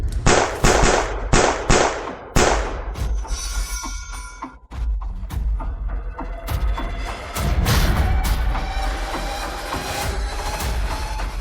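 Rapid gunfire from an action drama in which a lone fighter faces a hundred armed thugs, with sharp bursts and thuds in quick succession at the start, then a dense, sustained roar of shots and impacts.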